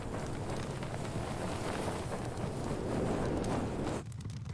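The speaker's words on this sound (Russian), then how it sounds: "Звук ветра завис." Steady, unbroken wind howl stuck looping in the horror game Evil Nun, dense and loud from start to finish, dropping slightly only in the final half second.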